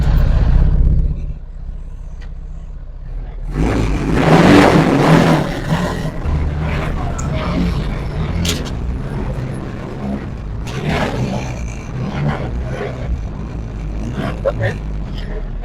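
A homemade G-Wagon-style car, built from scratch, pulls away with engine and motor noise rising, close by, while people talk and exclaim throughout.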